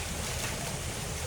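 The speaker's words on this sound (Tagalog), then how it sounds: "Ang ganda ng agos ng ilog oh." A river in Bulacan flowing steadily, a soft, even wash of moving water with no voices.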